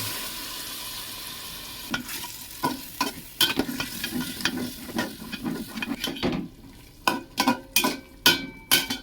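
A little water hits a hot frying pan of spices during cooking of vegetarian young jackfruit pulao, a loud sizzling hiss under repeated clattering spatula strokes that grow sharper and more spaced toward the end, close up, with no talk.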